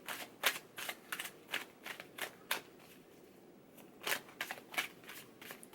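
Tarot cards being shuffled in a riffle of quick, crisp flicks in two bursts with a short pause between, close and fairly quiet.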